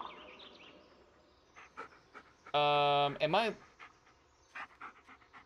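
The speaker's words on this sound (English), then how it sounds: "You can pet the dog, yep." Bullet the dog in the Blair Witch video game pants in a quick, loud, rhythmic burst of breaths, with quieter shuffling and a player's faint murmur around it.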